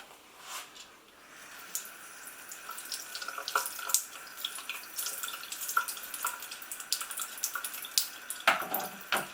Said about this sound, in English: I believe we pour water into this aperture and give it a rinse.